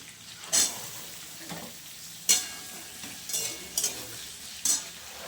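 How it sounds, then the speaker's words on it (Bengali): Onions and potatoes frying in oil with whole cumin and green chillies for ghugni, a soft sizzle broken by several sharp metal scrapes of a spatula against the pan. "পেঁয়াজটা ভাজা ভাজা হয়ে এসছে এখানে আমি আলুটা অ্যাড করে দেব"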